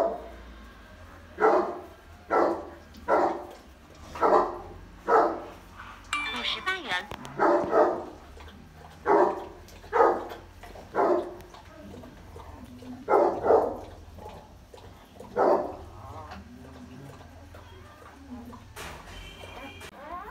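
A mother dog on a farm barks in a long series of loud, evenly spaced single barks close by, pausing briefly partway through, with some background clatter between them.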